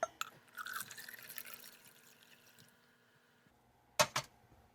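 Warm water poured from close by into a Polish shooter's field ration pouch: a gurgling, splashing stream that fades out, followed by a couple of sharp drips or crinkles near the end.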